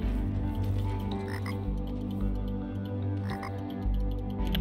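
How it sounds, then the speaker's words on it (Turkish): Frogs croak in a steady, dense chorus within the fantasy video game Tower of Time, layered over low ambient game music and sounding loud and continuous throughout. "Kurbağa lan."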